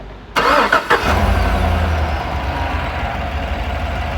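A Cadillac engine cranks over on the starter during a compression test on cylinder 4, a loud close burst of rapid cranking that settles into a steady rough drone with no one speaking.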